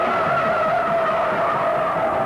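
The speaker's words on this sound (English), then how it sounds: "firing this car through a corner in a four-wheel drift with power on" Tires of a Dodge Charger 500 squeal steadily as the car is driven through a corner in a four-wheel drift under power, a sustained loud skid with engine noise beneath.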